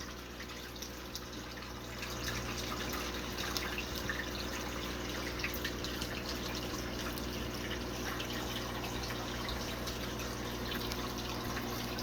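Fish and a little water poured from a bag into a home aquarium tank, a steady soft trickling and dripping of water that rises slightly after the first two seconds and stays even throughout, with no talking.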